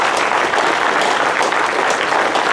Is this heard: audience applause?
yes